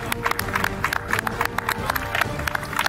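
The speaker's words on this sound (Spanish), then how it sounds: "creo que también se merece un aplauso" Studio audience on a reality competition show applauds a contestant, a steady patter of clapping mixed with a little crowd murmur, moderately loud and continuous throughout.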